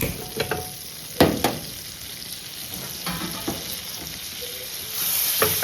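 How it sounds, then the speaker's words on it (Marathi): Whole spices fry in a generous amount of hot butter in a pan, giving a soft continuous sizzle broken by a few spatula scrapes and clinks. No one speaks. "पहिलं तर मी पॅन घेतलाय गरम केलाय त्यामध्ये बटर टाकलंय भरपूर प्रमाणात"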